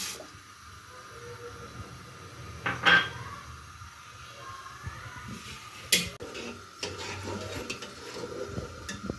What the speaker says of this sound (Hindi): एक देगची में दूध डाल के मैंने रख दिया चूल्हे पे पकने के लिए, और इसके साथ ही इसमें डाल दूँगी ये मैं चीनी।